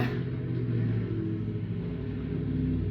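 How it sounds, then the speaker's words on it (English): A neighbour's noisy car engine idles and rumbles steadily, a continuous low drone with no voices over it. "Do you guys hear that? The neighbor's car."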